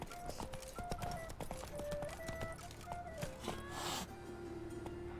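Roach, a horse in the video game The Witcher 3, gallops with rapid rhythmic hoofbeats and clip-clop under a music score, with a short whinny-like breath near the end.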